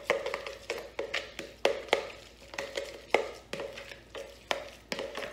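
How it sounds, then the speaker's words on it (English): A spoon beating savoury muffin batter with a pinch of salt in a bowl, giving steady, evenly spaced knocks against the bowl side, close and fairly quiet, with no talking. "We're going to give that a bit of a stir up now."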